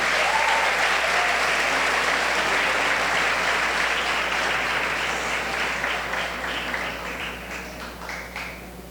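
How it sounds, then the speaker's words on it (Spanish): Loud, dense applause from a congregation at a 65th anniversary church celebration, steady crowd clapping that gradually thins and softens over the final seconds. "Un aplauso para Esteban"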